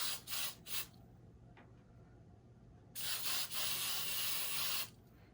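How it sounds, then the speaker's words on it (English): A can of firm hold hairspray gives a few short hissing bursts, pauses, then lets out one longer close spray before stopping, all fairly quiet with no voices. "If you use a firm hold hairspray,"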